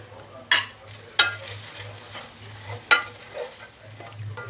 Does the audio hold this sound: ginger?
yes